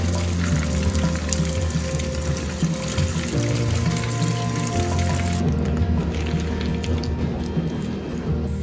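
Separated pumpkin seeds rinsed under running water, with a steady, close stream pouring and splashing, changing tone partway through as the flow or the seeds shift.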